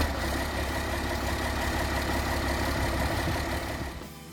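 Classic 1970s–80s farm tractor with a 401 cubic inch turbocharged diesel idling, a deep, steady, close rumble that holds evenly and then tapers off at the end.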